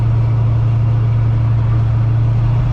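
A steady, loud, low exhaust drone comes from a 1970 Dodge D100 pickup truck while driving, with no voices over it.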